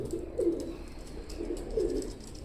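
Teddy pigeons, two males of a pure teddy line, coo in a home loft in low, soft bursts that come and go twice over a steady background hum, with no voices.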